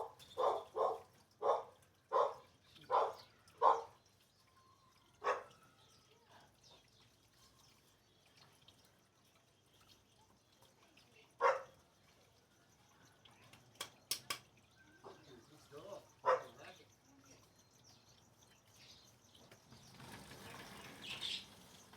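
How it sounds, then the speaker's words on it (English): A dog barks in a quick run of six or so sharp barks, then a few scattered barks follow at a distance in a quiet room. "I don't know why she's barking"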